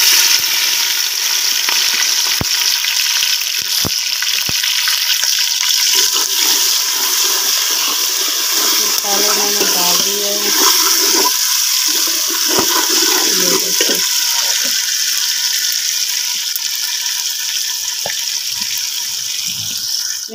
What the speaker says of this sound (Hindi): हमारा घी जो है वो गर्म हो चुका है, अब मैं भी सलाद डाल रही हूँ।